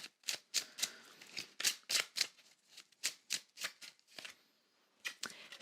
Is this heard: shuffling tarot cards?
yes